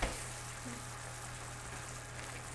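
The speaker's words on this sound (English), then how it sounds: "Stir this around" Chicken pot pie filling sizzles quietly in a pan as it is stirred, a soft, even crackle at close range with no voices.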